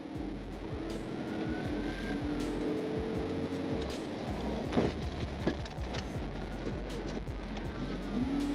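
A police car's engine drones loudly during a high-speed chase, with steady road and wind roar underneath and several dull thumps and knocks near the middle.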